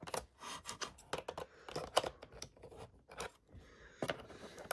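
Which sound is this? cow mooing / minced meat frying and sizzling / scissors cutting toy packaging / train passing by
scissors cutting toy packaging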